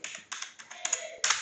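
Quick irregular clicks of keys on a computer keyboard as a password is typed, about eight close, crisp taps in a quiet room.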